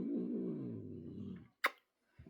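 A cat growls in a long, low, throaty rumble up close, then falls silent, followed by a sharp brief sound and faint rustling.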